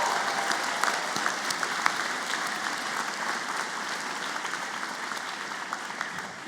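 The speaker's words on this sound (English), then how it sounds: "let's give them all a huge round of applause" Steady applause from the audience at the 2023 Yale Law School commencement, honoring Reshma's family: a dense, even wash of clapping at moderate distance that holds for about six seconds with no talk over it.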